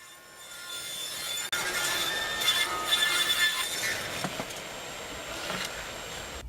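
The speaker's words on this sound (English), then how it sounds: "we're going to take it over to the table saw and cut the rabbet" A table saw cuts a rabbet into a wooden board for a rustic picture frame, a steady high-pitched whine and rasp that starts abruptly and holds for several seconds, close and loud without talk.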